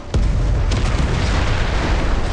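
A tank cannon shot strikes a target in the Modern War Tanks video game, one sharp loud boom followed by a second fainter thump, then a sustained rumbling roar of battle noise that fills the rest.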